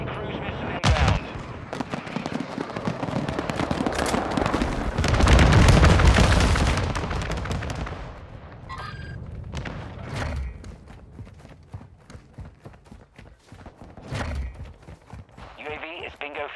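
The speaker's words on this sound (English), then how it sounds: "Friendly cruise missile inbound." Cruise missile strike in a team deathmatch shooter video game, a long loud swelling blast and rumble amid gunfire, with game radio voices speaking at moments.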